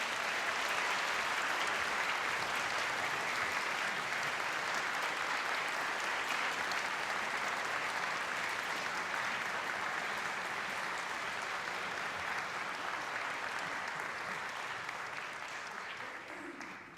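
Graduates at a university humanities and social sciences degree ceremony give a long, sustained round of applause for their supporters, a dense hall-filling clapping that stays loud and gradually tapers off at the end.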